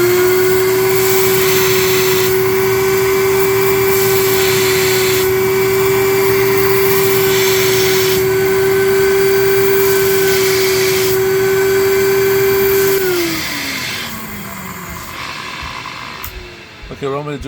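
A VPI vacuum record cleaning machine runs on a 60-year-old record, a loud steady motor drone with a high whine throughout, then it winds down and the pitch slides away near the end.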